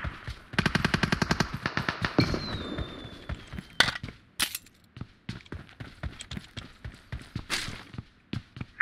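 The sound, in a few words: gunfire in a multiplayer shooter video game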